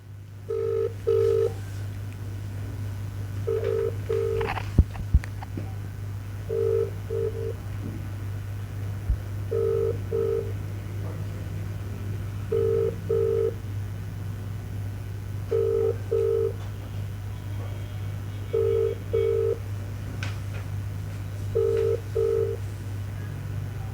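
Unanswered phone call: repeated double ring bursts of a telephone ringback tone at steady intervals over a low constant hum, with no one picking up.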